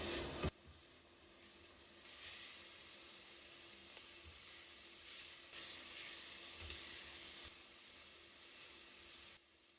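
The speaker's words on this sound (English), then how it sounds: "You need to fry this until the oil starts coming out." Bacon frying in its own fat in a pot with no oil added, a steady close sizzling hiss that swells and fades in patches over about ten seconds, with no voices.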